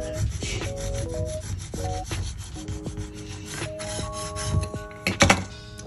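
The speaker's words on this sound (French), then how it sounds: "Je vais venir avec ma petite raclette. Je frotte bien." A small scraper rubs UV resin over a key, producing steady close scraping and rubbing strokes with occasional light knocks, louder toward the end.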